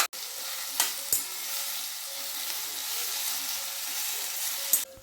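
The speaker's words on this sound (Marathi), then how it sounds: "टमाटर घालून चांगले फ्राय करून घ्यावे" Onion, garlic, ginger, bay leaf, cinnamon and tomato frying in a pan for paneer tikka masala, a steady close sizzle with a few sharp stirring clatters near the start and end, no voices.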